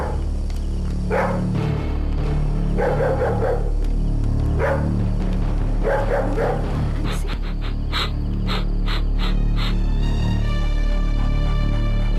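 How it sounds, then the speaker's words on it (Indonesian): A dog barks in repeated bursts at night in a TV-drama setting, the barks fairly close and loud over a steady background hum, with no talk during them. "Terus kenapa tuh anjing menggonggong terus?"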